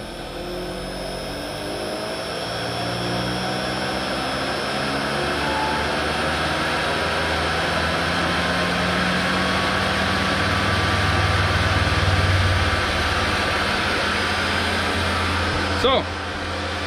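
A centrifuge spins black diesel fuel in a small-batch test, giving off a steady, loud mechanical whir with humming tones that holds evenly throughout and ends with a brief click.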